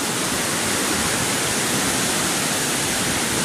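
Flood water rushing hard and rising, a loud, steady, broadband roar like a torrent, continuous with no breaks and no voices over it.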